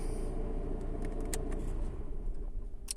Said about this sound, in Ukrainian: Працює машина, ось я цей ключ поставлю в сторону і глушимо